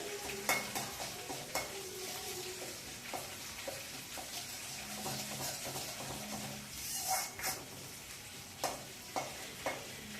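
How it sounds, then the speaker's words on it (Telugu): Ginger-garlic paste fries in a pan for a potato and pea curry, a soft steady sizzle broken by repeated scraping and clinking of a stirring spoon, close and with no voices. "ఒక స్పూన్ అల్లం వెల్లి పేస్ట్ చేసుకున్నాం కదా ఇది కొంచెం బాగా మరి పచ్చి వాసన పోయేదాకా"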